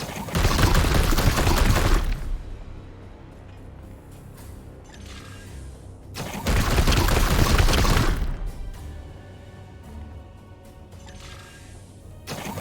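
Loud bursts of sustained automatic fire from the video game Chaos Gate: Daemonhunters, two long roaring volleys of about two seconds each, separated by quieter mechanical clatter and rumbling effects.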